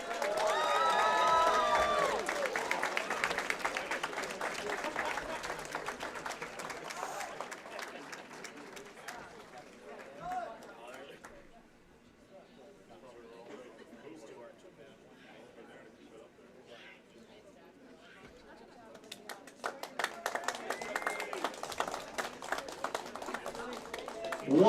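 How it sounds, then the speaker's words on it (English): An audience at a bowling alley claps and cheers during a championship event. The loud applause fades to a quieter murmur with some talk, then swells again into renewed clapping. "Once more, a huge round of applause for the entire staff of volunteers"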